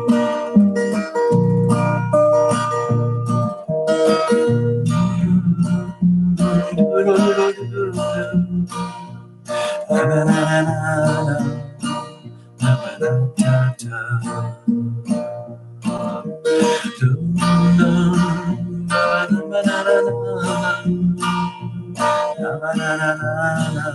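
A song performed one semitone above its usual key during a Sunday night live stream, with a dense mix of singing and instrumental accompaniment that continues steadily throughout.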